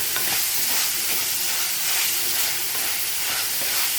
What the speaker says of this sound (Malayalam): സവാള മൂത്ത് വരട്ടെ. പച്ചമുളക് ഇടുന്നു.